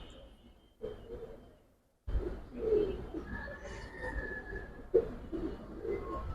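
Giribaz and Silver Bagha pigeons coo softly nearby in a few low, murmuring calls amid faint background rustling and ambient noise.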